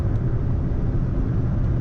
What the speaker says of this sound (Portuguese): Quarta marcha, o carro vem crescendo, crescendo, tá esticando até quase 4 mil giros aqui.